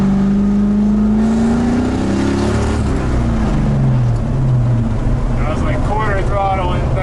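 LS V8-swapped Mazda Miata engine pulling at quarter throttle in third gear, a loud steady drone rising in pitch with road and wind roar throughout, ending in a brief sweep of revs near the close.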